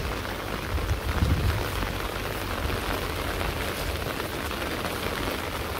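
Steady rain falls outdoors in the countryside, a soft, even hiss with no break across the whole stretch, faint and spread out with no voices.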